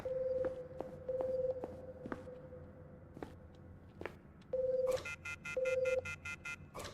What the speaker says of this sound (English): That sounds like a phone ringing.